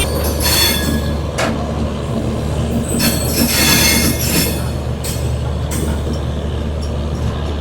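Lucknow–New Delhi–Lucknow Mail being shunted at Lucknow Charbagh station, wheels squealing in high, wavering screeches over a steady low rumble of rolling stock, loud and close with repeated bursts.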